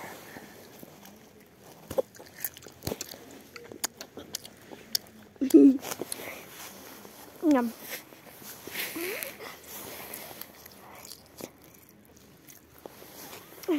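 Someone bites and chews spicy food outdoors in close-up, with scattered soft crunches and wet mouth sounds between pauses, while a voice briefly speaks.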